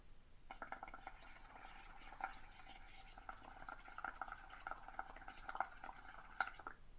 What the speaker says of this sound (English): Again, I got lots of bubbles